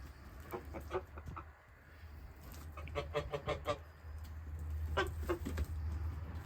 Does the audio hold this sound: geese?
yes